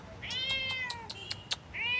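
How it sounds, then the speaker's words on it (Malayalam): A cat meows repeatedly from behind a wall in a village, giving several drawn-out, high cries spread across the moment, fairly clear and close, with no voices over them. "ആ പൂച്ച ഈ മതിലിനപ്പുറമാണ് അത് ചിലപ്പം വരും കരയുന്നുണ്ട്"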